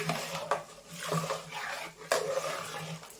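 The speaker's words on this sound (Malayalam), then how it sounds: "ഇത് നന്നായിട്ടൊന്ന് ഇളക്കി കൊടുക്കാം" A spoon stirs chili, coriander and turmeric powders and salt into curry in a pot, with repeated scraping and clinking strokes against the metal at a close, moderate level.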